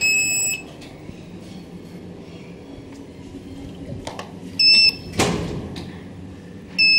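A few short electronic beeps from a Schindler 5400 traction elevator sound in separate bursts against a quiet, hollow room background, with a brief rushing noise partway through.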